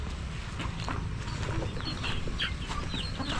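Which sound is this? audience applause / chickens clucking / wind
chickens clucking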